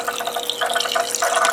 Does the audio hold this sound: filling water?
yes